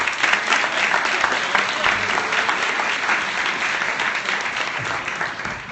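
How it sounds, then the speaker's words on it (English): A studio audience on a morning television set claps continuously in dense, even applause that stays loud throughout, with no voices standing out. "let's give a little more applause than we just did"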